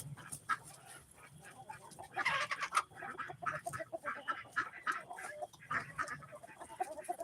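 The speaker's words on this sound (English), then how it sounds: "these are chickens, and you got another rooster going to go up there for tonight in the walnut tree" Chickens and a rooster cluck and call from a farm walnut tree at dusk, a busy overlapping flock of bursts and squawks, fairly close and continuous, with no talk.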